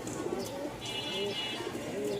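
Diamond doves, two pairs kept in a cage, give soft, low repeated coos over a steady background hum.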